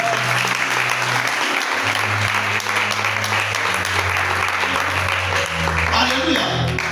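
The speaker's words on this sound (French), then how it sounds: "Est-ce qu'on peut acclamer pour eux?" A church congregation applauds and cheers throughout, with steady dense clapping and a low sustained hum of music or voices underneath.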